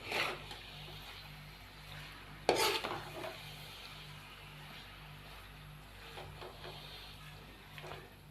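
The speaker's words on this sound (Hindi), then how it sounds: "मेथी को शामिल करने के बाद नादरीन हम इसको अच्छे से मिक्स करेंगे" Potatoes and chopped fenugreek leaves stirred in a pan, soft scraping and clinks of a utensil against metal with one sharper clatter, faint background hum and light sizzle, no talking.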